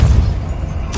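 Depulso force-push spell cast in the Hogwarts Legacy video game: a brief, heavy low thump with a dense burst of noise, loud and close, ending in a sharp crack.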